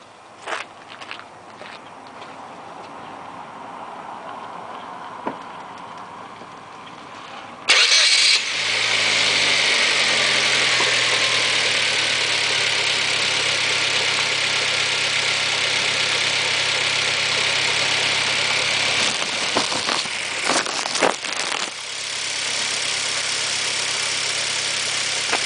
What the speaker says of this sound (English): So now we're going to try starting the car.